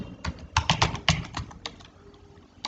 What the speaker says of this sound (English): here I will type